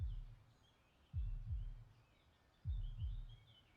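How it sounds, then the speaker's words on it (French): Slow, deep heartbeat thuds in the IFSCL video game, paired double beats repeating roughly every one and a half seconds, close and muffled, with faint high bird-like chirps in the background. "Et les battements de cœur."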